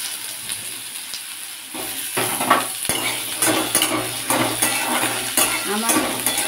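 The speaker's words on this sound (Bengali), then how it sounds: "এবার আলু আর বেগুন দেব, তার জন্য তেল গরম হয়ে গেছে।" Potatoes and eggplant frying in hot mustard oil, a steady close sizzle with louder bursts and scraping stirs from about two seconds on, no voices.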